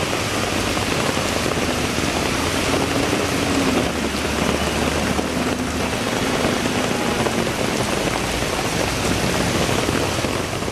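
Heavy morning rain in Delhi pours down as a dense, steady hiss of water hitting surfaces, loud and unbroken from start to finish with no voices.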